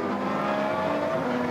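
Historic endurance race cars, a diesel Peugeot and a normally aspirated Lola Aston, accelerating hard at Silverstone, a dense continuous engine roar with rising tonal lines, loud and steady throughout with no talk.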